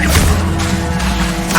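A fire spell cast in the video game Hogwarts Legacy makes a dense, steady whoosh of flame with a low rumble beneath and brief bright flares at the start and end, alone and close.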